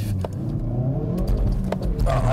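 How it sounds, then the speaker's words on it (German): Hyundai i30 N hot hatch accelerating from around 30 km/h, heard from inside the cabin as a steady, loud low engine drone with rising tone and a few brief clicks, no talking over it. "Wenn wir jetzt hier ein bisschen langsamer fahren und auch mal mit dem Hyundai beschleunigen wollen. Ich fahre jetzt mal von 30."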